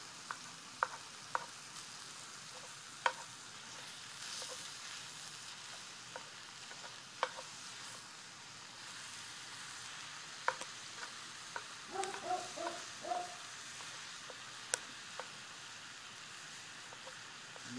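Meat browns in a 12-inch cast iron skillet for a cowboy stew, giving a steady close sizzle and crackle with occasional sharper pops and brief stirring scrapes, no voices.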